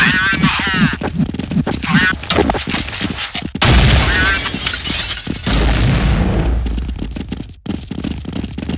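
A grenade blast amid gunfire in a Counter-Strike Condition Zero match, loud booming explosions and rapid shots packed densely together, with game voice lines and talk mixed in.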